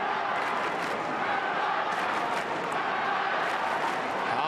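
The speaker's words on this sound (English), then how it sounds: "the Collingwood chant rings around Etihad Stadium" Collingwood fans chant and roar at Etihad Stadium during an AFL match against Adelaide, a dense, steady crowd wash with no breaks across the whole stretch.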